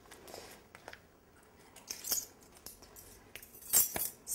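A spoon stirs pectin into sugar in a small bowl, making faint, scattered clinks and scraping ticks against the bowl in a quiet room.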